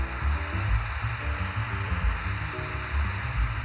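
A torch or heat gun blasting on a stuck bolt on a 1952 VW Barndoor ambulance during gearbox and front beam removal, a steady loud roaring hiss with a low flutter underneath.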